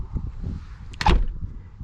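The door of a 2002 MCI coach bus conversion swings shut on a newly installed latch, landing with a single solid thud and latch click after faint shuffling, close by and with no one talking.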